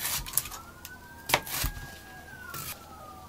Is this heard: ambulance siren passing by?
yes